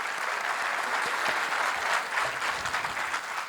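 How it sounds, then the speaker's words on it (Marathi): An audience applauds after a session at a talk, giving a dense, steady wash of many hands clapping that stays loud and continuous from start to finish. "ह्या मौल्यवान सेशनसाठी एकदा आपण जोरदार टाळ्या जाऊ देऊयात."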